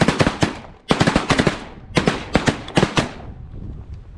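Rapid shotgun blasts ring out during a North Dakota duck and goose hunt, about a dozen sharp reports in quick bursts, loud and close, with echoing tails fading between volleys.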